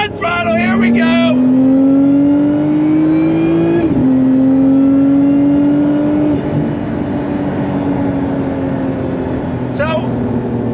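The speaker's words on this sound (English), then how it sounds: "Second gear. On throttle, here we go!" A supercharged Lotus Emira sports car pulls hard in second gear, its engine note rising steadily in pitch, dipping briefly at a shift-like break, then holding a loud, continuous drone close to the microphone.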